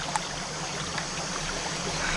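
River water in Halmahera flows with a steady, even rush and faint trickling, close by and continuous, with no voices.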